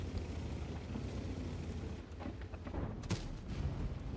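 A tank gun in World of Tanks fires a shell over a dense, rumbling battle din, with a sharp blast near the end standing out above the low engine roar.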